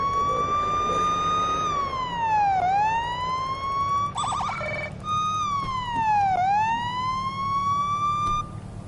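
A police car siren in a video game wails in long rising and falling sweeps, loud and steady, with a short burst of a different electronic tone midway.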